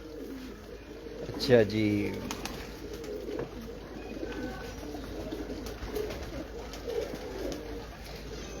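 Breeder pigeons cooing in a Lahore loft, a brief clear coo early on followed by soft murmuring and handling noise, with a voice briefly present.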